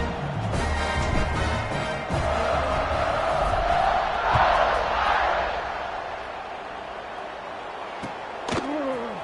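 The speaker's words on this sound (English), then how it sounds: "this crowd is feeling themselves after that last drive." Stadium crowd in the College Football 26 video game roars steadily across a kickoff, a broad wash of cheering that swells midway and fades, with a commentator's voice over it.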